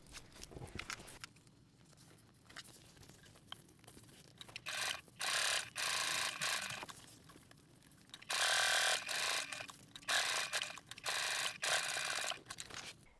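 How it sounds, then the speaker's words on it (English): Sewing machine stitching around the bottom edge and sides of a tote bag pocket, running in several short loud bursts with brief pauses between them. "I'm going to go over to the machine and I'm going to sew around those bottom edge and the 2 sides on each pocket"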